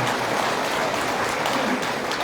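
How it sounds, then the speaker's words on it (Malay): Large assembly of public servants giving thunderous applause for an association president, a loud continuous wash of clapping filling the whole stretch without pause. "satu tepukan gemuruh kita berikan kepada Presiden QPEX Datuk Dr. Haji Anwar Memang"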